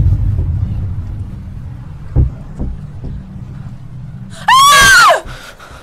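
A woman's loud, high scream bursts out near the end, rising and falling over about a second after a stretch of low rumbling and a few soft thumps, in a Hindi romantic thriller film scene.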